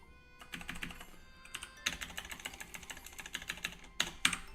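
Rapid clicking of a computer keyboard being typed on, in bursts with short pauses, close and fairly loud, no voices over it.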